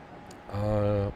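A 205 series electric train on the Yamanote Line accelerating in the Densha de GO game, a rising motor whine with stacked harmonic tones that swells after a quiet start and holds for about half a second before cutting off.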